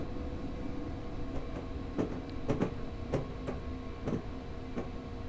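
A train braking to a stop in Train Simulator 2015 on the Los Angeles to Irvine route: a steady low rumble with a run of sharp metallic clicks and ticks at uneven intervals, moderately loud, with no talk.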